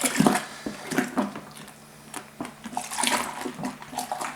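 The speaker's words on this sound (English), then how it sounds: "Now we're just adding the last of the water." Water pours and splashes into a home beer brewing kit, an uneven run of sloshing bursts and trickles at close range.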